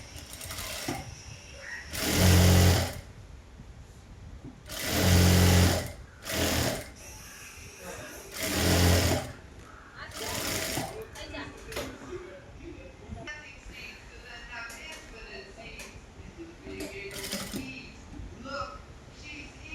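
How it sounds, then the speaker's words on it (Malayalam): A sewing machine stitches a trouser hem in several short bursts, loud and close, with pauses between runs and faint mechanical rattling in the quieter stretches. "ബാക്ക് പോർഷനിൽ ഈ ഭാഗം ചെറുതായിട്ട് ഒരു കാലിഞ്ച് ഗ്യാപ്പിട്ട് സ്റ്റിച്ച് ചെയ്ത് കൊടുക്കാം"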